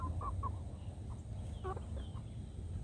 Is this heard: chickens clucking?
yes